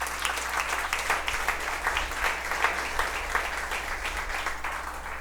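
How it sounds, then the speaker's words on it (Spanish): A church congregation applauds during a class service, a dense, steady wash of clapping heard at moderate distance, sustained without a break across the whole stretch. "Brindemos ese aplauso a nuestro Señor."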